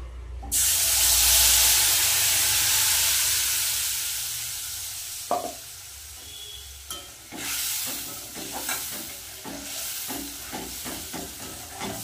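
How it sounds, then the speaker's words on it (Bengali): Dried chilli, tomato, onion and two cloves of garlic hit hot oil with a loud, close sizzling hiss that slowly eases off, followed by scraping stirs and a few knocks of a spoon against the pan. "তেলের মধ্যে দিয়ে দেবো, এখানে আছে হচ্ছে শুকনো লঙ্কা, টমেটো, পেঁয়াজ আর একটু হচ্ছে রসুন দিয়েছি 2 কোয়া।"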